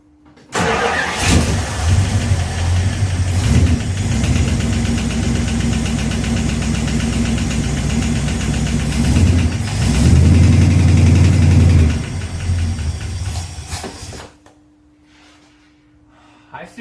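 A 1969 Plymouth Fury III V8 engine, being checked for an unexplained noise near the harmonic balancer, cranks and fires, then idles loudly and steadily up close. Its revs rise briefly before it shuts off.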